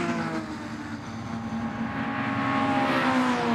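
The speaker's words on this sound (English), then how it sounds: "Great noise with these cars" Historic sports racing cars, a Jaguar D-type and a Lister, race at Goodwood with a loud, steady engine roar and droning harmonics that swell slightly as they pass, heard alone without voices.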